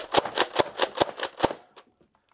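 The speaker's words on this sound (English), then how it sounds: "This blaster is slam fire." A Nerf Rival Saturn foam-ball blaster slam-firing in quick succession: about seven loud, snappy pops in an even rapid rhythm, close up, then a few faint mechanical clicks as it stops.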